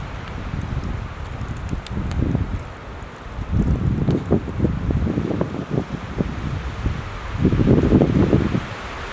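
Strong wind gusts at a freezing backpacking campsite in Dolly Sods, buffeting close to the microphone in rough surges with rustling bursts, loudest toward the end; no talking.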